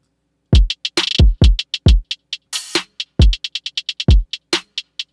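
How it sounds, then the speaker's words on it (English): Trap beat programmed in a DAW: crisp hi-hats tick in quick triplet rolls over booming 808-style kicks and sharp snare hits, dry and punchy with no voices. "Notice how the hats are kind of accenting and playing along with the kick and the snare."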